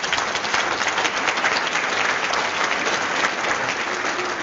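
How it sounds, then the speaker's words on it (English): Steady, dense audience applause greets a speaker at a presentation on interdisciplinary innovation, many hands clapping evenly and continuously throughout at a fairly close, full level. "So if we can have a great round of applause for Dr. PeterNichol."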